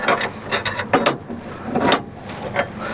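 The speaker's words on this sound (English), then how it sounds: "I'm going to adjust my bolt inward, giving slack on my pintle chain" Adjustment bolt on a BOSS spreader pintle chain being turned with a ratchet, close clicking bursts in quick uneven runs with short pauses between them.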